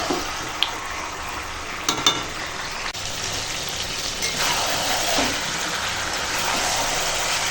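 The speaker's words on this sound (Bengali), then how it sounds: "এবার এই পেঁপে দিয়ে কষাচ্ছি" Chicken sizzles and fries in a pan with potato and papaya, a steady close hiss with occasional stirring clinks and scrapes, no talk.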